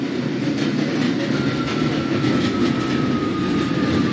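A simulated R42 New York subway train runs in the OpenBVE train simulator game, a steady rumbling roll of wheels on track with faint rhythmic clacks and a thin electric whine throughout.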